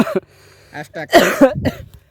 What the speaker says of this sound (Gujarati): મને ખાંસી પણ ગાઈસ ઘણી બધી થઈ ગઈ છે